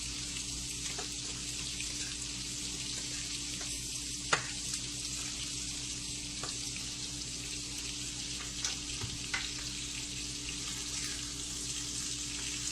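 Food caramelizes in a hot pan with a constant close hiss and sizzle and a few small pops and clicks throughout. No one speaks.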